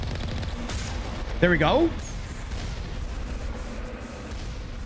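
Rapid turret gunfire from Mass Effect, as dense continuous shooting, with someone briefly talking over it midway.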